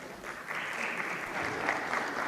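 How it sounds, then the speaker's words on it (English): Panel audience at a women's health festival giving applause, a soft, steady patter of many hands heard from a distance at low level. "Could we please give her a round of applause?"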